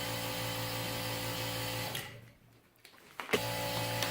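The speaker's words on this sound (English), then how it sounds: "Alright, so this compressor started." A small single-phase compressor, drawing unusually high current, hums steadily with a dense mechanical drone, cuts out briefly into near-silence, then clicks and restarts at the same level; nobody speaks.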